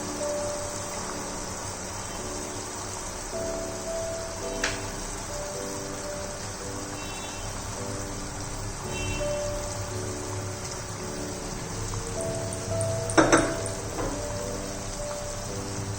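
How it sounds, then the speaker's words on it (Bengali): Rasgulla balls simmer in boiling sugar syrup for nolen gur rosogolla, giving a steady, close bubbling hiss with faint tonal hum underneath and occasional small knocks, with no talking. "এবার আমি একটা একটা করে রসগোল্লার বলসগুলো শিরাতে চুবিয়ে ফুটিয়ে নেব।"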